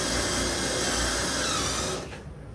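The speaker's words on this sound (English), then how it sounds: "I'm going to have to probably use my little belt sander" A small 3M belt sander runs on a car body panel, giving a steady loud abrasive whine and hiss that winds down near the end.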